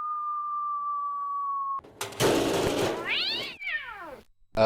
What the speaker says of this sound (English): Hang on, the cat's about to jump out the window.